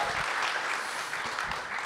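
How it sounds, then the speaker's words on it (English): Audience applause for actress Betsy Brandt at a TV festival conversation event, a steady wash of many hands clapping throughout, moderately distant and even. "Let's give her a round of applause."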